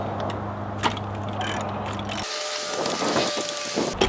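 A hand ratchet works loose the bolts on a car's manual transmission, giving repeated fast clicking strokes up close, with a steady hum underneath at first that drops away partway through.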